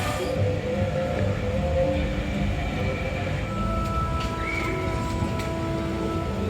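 A Disneyland theme park tram rolls along with a steady, continuous rumble and rattle of wheels, close and fairly loud, with no talking.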